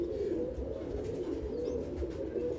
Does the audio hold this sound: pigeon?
yes